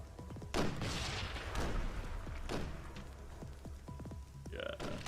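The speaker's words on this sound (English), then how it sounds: "One of the explosions that kills me is just like, how?" Explosions go off in the Epoch mod video game as several heavy booming blasts with rumbling tails, mixed with sharp thuds and faint clatter, loud and close.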